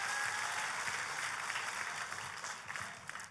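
A church congregation at a worship service applauds for God, a dense, sustained wash of many hands clapping at moderate volume that gradually thins toward the end.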